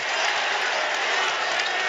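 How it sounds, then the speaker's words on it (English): Basketball arena crowd at a college game cheering and applauding, a dense steady wash of clapping and shouts that is continuous throughout, heard at a distance. "And the crowd going crazy."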